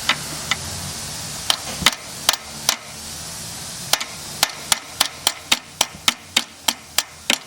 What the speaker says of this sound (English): we don't hammer it a long ways, just till that white line meets the red.